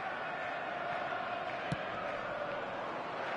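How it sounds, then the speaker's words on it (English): Stadium crowd noise from the eFootball video game on PS4 for an evening match forms a steady, dense roar of distant voices, broken once by a brief sharp thump partway through. "And the matchday noise at this place is truly special"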